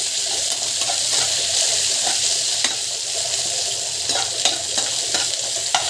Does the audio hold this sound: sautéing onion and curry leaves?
yes